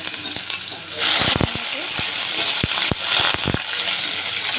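Onions hiss and crackle in hot oil in a pan, a loud, dense sizzle that swells as they go in, with a few utensil knocks and scrapes against the metal.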